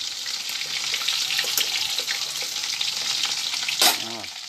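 Chicken frying in hot oil gives a dense, steady close-up sizzle with light crackling and a brief louder burst near the end.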